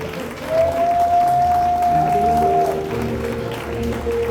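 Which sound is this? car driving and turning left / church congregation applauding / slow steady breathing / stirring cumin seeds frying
church congregation applauding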